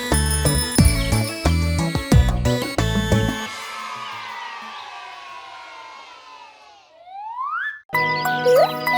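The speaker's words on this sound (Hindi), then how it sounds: "साइकिल मेरी सरर जाए, ट्रिंग ट्रिंग घंटी बजाती जाए" A bicycle bell rings inside a cheerful Hindi children's vehicle rhyme, its bright chimes sounding over backing music with bouncy sweeping effects.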